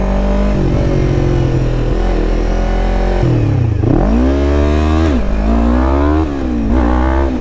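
A Yamaha R3 motorcycle engine drones loudly and close, holding steady, then revving up and down several times in rising and falling sweeps.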